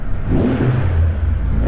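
A deep, booming motorcycle engine drone swells and holds steady, echoing through a road tunnel, with no voices.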